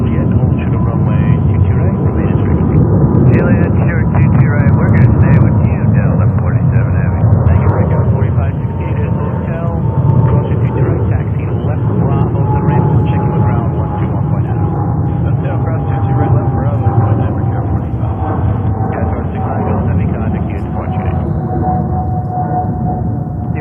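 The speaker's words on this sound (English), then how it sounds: "There goes Qatari." A Qatar Airways jet takes off at JFK in winter, its broad engine roar steady and loud for the whole span, with a faint rising whine over the rumble and air traffic radio talk.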